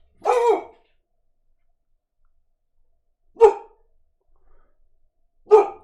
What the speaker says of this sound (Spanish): Ay, perdón, mi perro despertó.